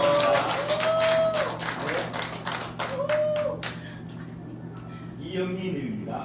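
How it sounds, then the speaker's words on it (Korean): An audience at a poetry book launch in a gallery in Insadong, Seoul, claps in a brisk burst of applause for several seconds, overlapping with people talking, before fading into speech. "박수"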